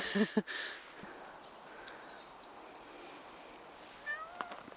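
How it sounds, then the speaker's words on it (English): A cat meows loudly a couple of times near the start, outdoors on a frosty winter day in Scotland, then fainter, scattered mews follow over a quiet background. "He also meows a lot when he's outside."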